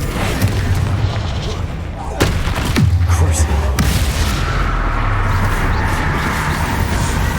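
Blasting spells Confringo and Bombarda explode in Hogwarts Legacy, with a few deep booms and sharp bursts at intervals over a steady rumbling game backdrop, while a voice calls out in between.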